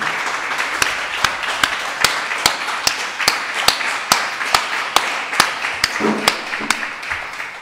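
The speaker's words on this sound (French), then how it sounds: "On va non seulement vous applaudir" Audience at a poetry festival event in Ventiseri applauding in steady rhythmic unison, a long run of evenly spaced loud claps over a bed of scattered clapping, with a brief voice near the end.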